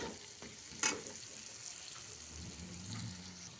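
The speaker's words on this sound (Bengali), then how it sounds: "দেখুন প্রায় মশলাটা ভাজা হয়ে গেছে" Spices with cumin frying in a pan, a soft steady sizzle with a sharp clatter near the start and faint stirring scrapes, no voices.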